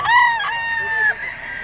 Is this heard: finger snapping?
no